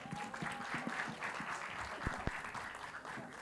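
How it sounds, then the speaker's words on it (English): An audience applauding the director at a film trailer launch event, a dense, fairly faint wash of clapping with a few sharper claps standing out. "Please give him a big round of applause."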